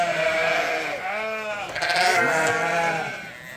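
A sheep bleats loudly and close by in a long, wavering call, followed by another bleat overlapping it.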